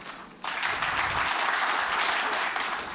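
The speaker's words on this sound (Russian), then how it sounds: "Парни, поаплодируйте, кто женат." Married men in a comedy club audience break into applause, steady and fairly full clapping that starts abruptly and continues to the end.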